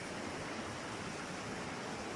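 Cold stream water flows in a steady, continuous broadband rush, close and fairly quiet, on a stop along the road to Baler, with no talk over it.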